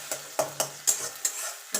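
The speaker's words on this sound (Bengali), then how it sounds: "ডিমটাকে আগে ভুজিয়া করে নেব" Beaten, salted egg scrambled in a kadai over high gas heat: a soft background sizzle broken by five or six sharp scraping spatula strokes at a steady rhythm, close and moderately loud, with no talking.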